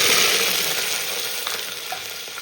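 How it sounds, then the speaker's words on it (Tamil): Steady crackling sizzle of mustard seeds spluttering in hot sesame oil, close up, with occasional sharper pops over the continuous frying hiss. "கடுகு பொரிஞ்சிடுது."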